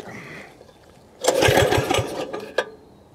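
Briggs and Stratton engine on a homemade mini trike is pulled over, giving a short burst of sputtering firing pulses that cuts out, followed by a sharp knock, close by with no talk.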